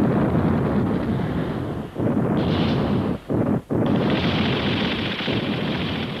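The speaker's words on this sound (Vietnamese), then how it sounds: "Tiếng đại bác của quân ta đã..." Heavy, sustained booming and rumbling fits artillery cannon fire. It is loud and continuous, with short gaps of quiet between dense stretches. It sounds like a wartime battle scene with massed guns.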